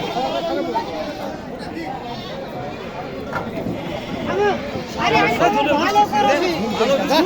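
Goats bleat repeatedly at a busy livestock market, several calls rising over constant crowd chatter and someone talking close by.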